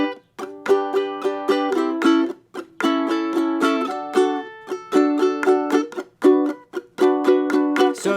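Ukulele strumming a song, clear and close, with bright rhythmic chord strums in repeated phrases separated by short gaps, played alone without singing or talk.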